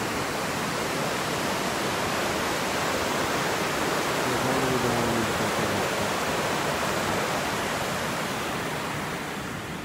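Silver Creek rushes steadily beside a campsite on the Baker Lake Eastside Trail. The water makes a constant, broadband hiss that fills the whole stretch, with no clear individual splashes.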